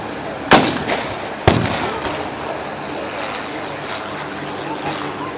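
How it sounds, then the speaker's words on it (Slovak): An SU-100 tank destroyer fires its 100 mm cannon at a battle reenactment, two sharp, loud blasts about a second apart, each followed by a rolling echo over outdoor rumble. "teraz strieľa SU-100"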